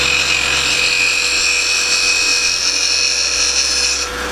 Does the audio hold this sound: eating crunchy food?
no